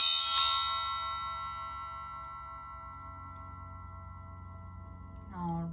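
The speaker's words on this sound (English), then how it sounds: "I'm going to go ahead and clear the energy by ringing a bell" A single bell is struck once to clear the energy at the start of a psychic reading, giving a bright metallic ding that rings on with a long, slowly fading sustained tone. A voice comes in briefly at the end.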